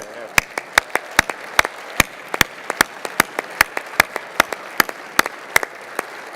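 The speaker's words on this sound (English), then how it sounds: "so we give you a big round of applause" At an awards dinner, someone nearby delivers slow, loud, evenly spaced claps, roughly three a second, over a quiet room murmur, with no wider crowd applause building around them.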